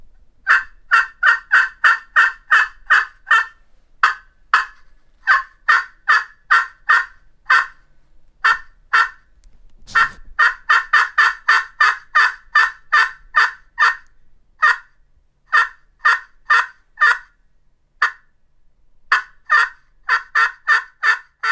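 A plexi turkey call peg with a burnt ash top imitates a coarse, deep gobbler, with rapid, loud, close yelping bursts in repeated runs separated by short pauses and no talking.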